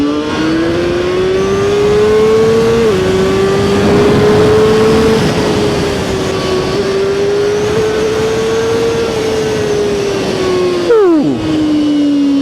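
A ZXJC 500RR motorcycle engine runs steadily under acceleration while riding, its exhaust note rising and holding loud and close, with wind noise and a sharp drop in pitch near the end as the rider shifts or rolls off.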